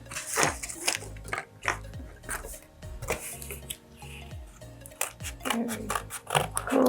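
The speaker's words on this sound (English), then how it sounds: "we'll pick up our cardboard and our scissors and we'll start cutting just circle beads for this one" Scissors snipping through cardboard to cut out circle beads for a children's craft, a series of close, irregular crunchy cuts with short pauses between them.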